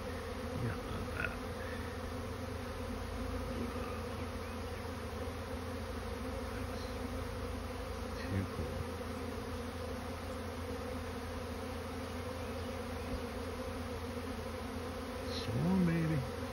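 A large honeybee swarm hums in a continuous, steady drone close around the listener, with individual bees zipping past now and then and a brief low rustle near the end.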